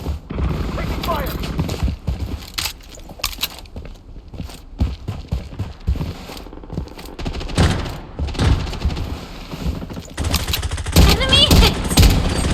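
Rapid bursts of gunfire in the shooter game Bloodstrike, dense automatic fire in clusters with sharp shots throughout, mixed with footsteps and in-game radio voice callouts.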